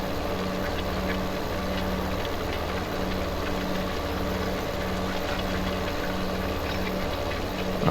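Case 9190 tractor engine pulling a load in Farming Simulator 17, a steady low droning rumble with a faint rhythmic pulse, continuous and even throughout.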